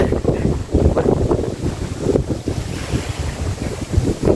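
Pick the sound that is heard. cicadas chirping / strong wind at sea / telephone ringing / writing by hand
strong wind at sea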